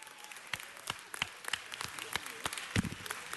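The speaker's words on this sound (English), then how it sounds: "Let's give them a round of applause." Sparse, scattered claps of applause at a Friday city council meeting honoring Soul Train, the long-running syndicated television program, with individual hand claps standing out rather than a full ovation.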